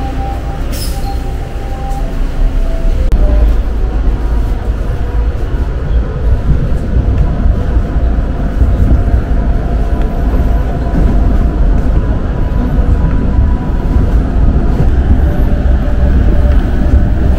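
A Toronto train approaches and rolls past, a loud, sustained rumble of wheels and carriages that builds and stays steady for several seconds.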